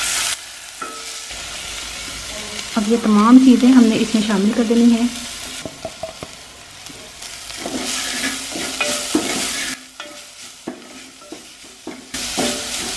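Onion, garlic and ginger being stirred and sautéed in a pan for samosa filling, a steady close sizzle and scraping that swells midway with louder frying bursts, a voice talking over it.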